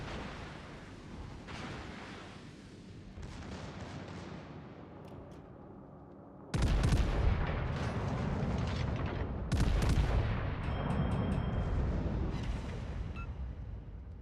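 Heavy ship main guns fire in World of Warships, a naval video game: two massive booming salvos several seconds apart, each followed by a long rumbling decay, with quieter distant battle noise between them.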